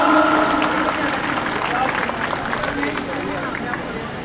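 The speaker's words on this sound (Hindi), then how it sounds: "आप लोग जोरदार तालियों से स्वागत करें हमारे आए हुए मेहमानों का।" A crowd at a gathering claps to welcome arriving guests. The applause is steady and fairly loud for several seconds, with voices talking over it and crowd babble underneath.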